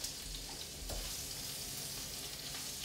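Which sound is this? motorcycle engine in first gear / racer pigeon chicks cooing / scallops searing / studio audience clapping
scallops searing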